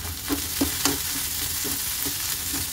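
Onion, green chilli and boiled peas fry in a pan with steady sizzling, while a spoon stirs and scrapes through them in several distinct, uneven strokes close by.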